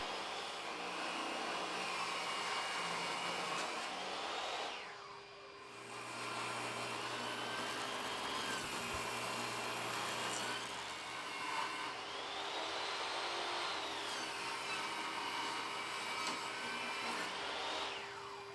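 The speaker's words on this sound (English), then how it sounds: "On the table saw, I cut the opposite side, removing about an inch from each." A table saw ripping a 2x4 board for a bench, a steady loud high whine sustained throughout with two dips where the blade spins down briefly between cuts.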